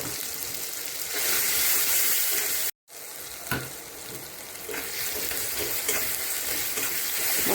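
Ground spices with chili powder, green chilies and coriander-cumin powder fry loudly in a pan, a steady close sizzle broken by scraping stirs and one brief silent gap partway through.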